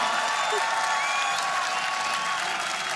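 Big arena crowd at the Ahoy Arena applauding and cheering for an esports team's lap of honor after the LEC finals, a steady wash of clapping and cheers heard from within the crowd.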